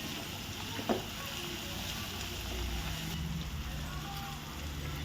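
Garlic frying in a pan for a spicy garlic pepper rice, giving a steady close sizzle and crackle throughout with a brief louder clink near the start, no talk.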